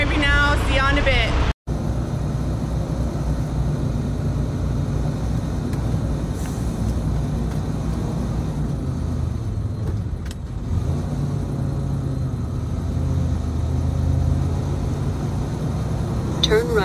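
A semi truck drives on the highway, a steady loud engine and road drone filling the cab, with a brief dropout near the start and someone talking over the noise.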